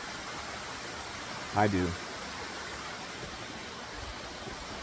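A waterfall rushes with a steady, broad roar that fills the scene, and a voice speaks briefly over it.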